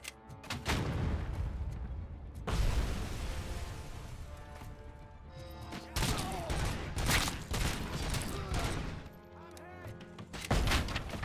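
Rapid bursts of gunfire crackle in clusters, punctuated by heavy booming blasts, loud and close, from the video game RoboCop: Rogue City.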